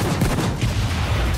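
Rapid gunfire in the video game Payday 2, a dense continuous burst of shots that fills the mix loudly with no talk.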